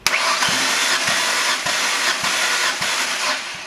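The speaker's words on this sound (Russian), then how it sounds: "Замер компрессии, первый цилиндр." A 2007 Jaguar X-Type 2.5-litre 24-valve engine cranks over on the starter during a compression test, a loud continuous whirring drone punctuated by regular rhythmic thumps about every half second as each compression stroke loads the starter.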